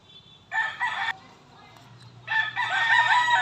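A rooster crows twice close by, a loud harsh call followed after a pause by a second, longer crow, with faint low background hum between.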